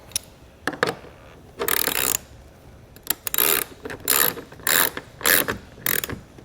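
A ratchet wrench tightens a bolt on a Rhino-Rack RVP roof rack fixed-mount tower on a 2019 vehicle, giving repeated bursts of close, loud clicking in several quick strokes with short pauses between, and no talking.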